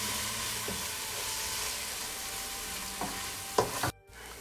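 Mutton kurma masala with chili and coriander powder sautés in a pan with a steady close sizzle, a few scraping stirs near the end before it cuts off.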